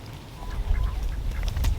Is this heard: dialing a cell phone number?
no